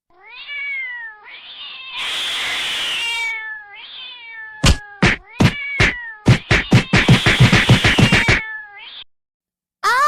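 A cartoon cat meows loudly and repeatedly, long drawn-out wails at first, then a rapid burst of short sharp cries, close and alone without talk.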